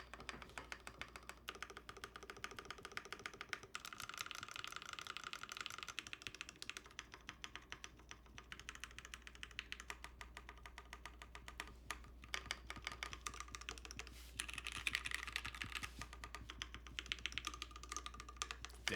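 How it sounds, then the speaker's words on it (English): Steady, dense typing on a custom Noxary Valhalla mechanical keyboard, with rapid clustered keystrokes close up and no voices. "Sounds like a keyboard."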